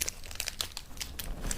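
Crinkly plastic bags crumpled up close, giving a dense run of sharp crackles and rustles at a soft level, with no talking.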